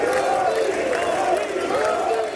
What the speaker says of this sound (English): Lawmakers stood up and applauded as he walked up to the podium to deliver his address.